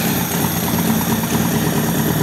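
Motorcycle engine idling steadily while coolant is tested, a constant close mechanical hum and vibration with no voices.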